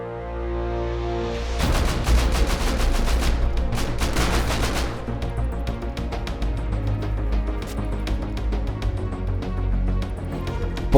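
A nighttime raid on a medieval star fort in the game Rust, with rapid bursts of automatic gunfire layered over dense booming rocket blasts and a rumbling low end, loud and relentless for the whole stretch, with no talking.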